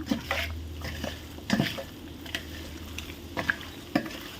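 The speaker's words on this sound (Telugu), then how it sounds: "వీటిని బాగా కలుపుకుందాం, ఈ మసాలా అంతా కలిసేలాగా." Green chillies and mint being mixed into biryani masala with a spoon, producing soft scraping and stirring strokes over a faint sizzle, close and quiet, with no talking.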